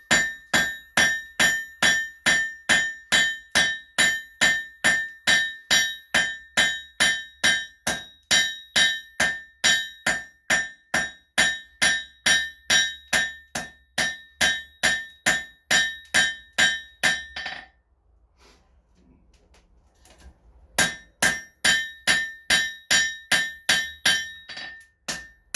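Hammer blows forging hot steel tongs on an anvil ring out in a fast, steady series of loud metallic strikes, stopping for a few seconds before another quick burst of hammering.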